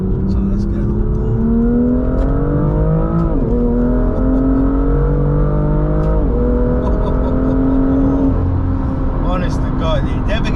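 A BMW M2 engine pulls hard through the gears, its loud rising drone climbing in pitch, dropping briefly at two shifts, then climbing again, heard from inside the car with constant road roar beneath.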